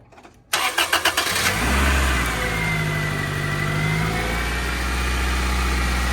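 A Toyota Celica GTS with the 2ZZ-GE engine cranks briefly with a rapid pulsing starter, then catches and roars up before settling into a steady, loud idle heard close with no talk.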